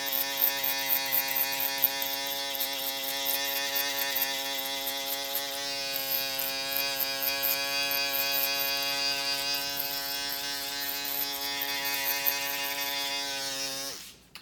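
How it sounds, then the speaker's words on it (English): A Babyliss foil shaver buzzes steadily during a haircut, a close, continuous electric hum with a rich harmonic whine, briefly shifting pitch midway before cutting off abruptly at the end. "I'll just show you real quick how the foil shaver works over here."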